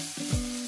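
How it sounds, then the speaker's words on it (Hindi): Carrots frying in ghee for halwa, a short soft sizzle with a brief stirring scrape partway through, close and steady with no one talking. "गाजर घी के साथ भूनते भूनते"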